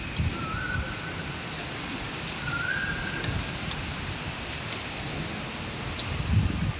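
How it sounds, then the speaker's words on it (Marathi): Steady rain from the first monsoon downpour fills the whole stretch as an even, close hiss, with a few faint whistling tones and a slightly louder swell near the end. No one speaks. "आता मस्त पाऊस येते ना"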